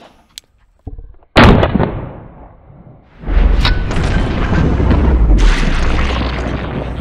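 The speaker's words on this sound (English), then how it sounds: "this is 9mm XTREME DEFENSE against the torso. First shot" A 9mm Xtreme Defense round is fired from a handgun into a ballistic torso indoors. A single sharp, loud report is followed by a long, rumbling roar that stays loud after the shot.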